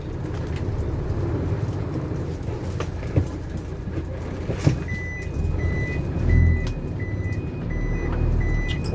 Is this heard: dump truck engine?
yes